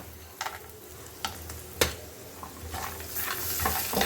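Peanuts tipped into hot oil in a pan, a steady sizzle broken by a few distinct clatters and scrapes of the nuts and spatula, growing busier toward the end.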